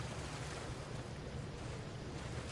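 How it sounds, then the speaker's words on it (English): Steady, faint rushing of running water flowing into a house in Skyrim, a continuous broadband wash with no breaks or voices. "This water literally runs into the house."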